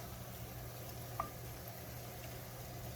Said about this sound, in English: So I just fry it up really good.